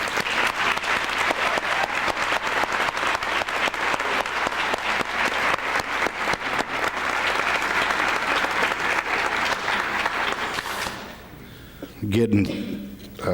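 A crowd applauds at a school pep assembly, a thick steady wash of clapping for about eleven seconds that then drops away, followed by a speaking voice.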